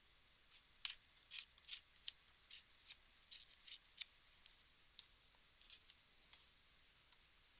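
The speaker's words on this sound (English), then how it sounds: "So I'm going to just go ahead and tear it" Paper being torn by hand along the edge of a ruler, a run of short, crisp ripping bursts in uneven rhythm, close and fairly quiet, with no talking.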